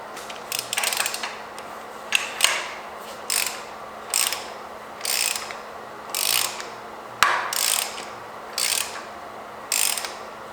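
A ratchet wrench tightens bolts on a Toyota 1JZ VVTi engine during a teardown of a 1988 Supra, about a dozen short bursts of rapid clicking separated by brief pauses, close and clear with no talking.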